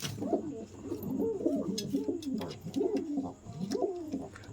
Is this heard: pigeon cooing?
yes